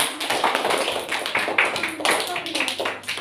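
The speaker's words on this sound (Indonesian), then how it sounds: "Tepuk tangan untuk kelompok 3." Classroom applause for a student group: a steady, dense patter of many hands clapping close by for about three seconds, with some talking mixed in.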